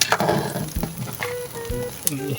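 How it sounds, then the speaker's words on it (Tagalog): A dish is stirred in a pan over sizzling heat, soft scraping and frying crackle close by, with a voice talking over it. "halo-haloin na natin ah, para hindi mamuo yung huli natin nilagay"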